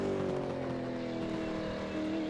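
A race car in a Supercars esports racing game at Spa-Francorchamps downshifts to second gear at the end of the Kemmel straight, a steady, moderately loud engine drone with shifting tone.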